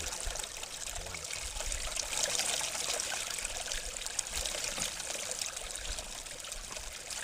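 Ice-cold mountain spring water trickles and splashes steadily nearby in a soft, continuous babble, with no voices.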